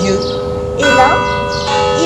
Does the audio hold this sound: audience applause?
no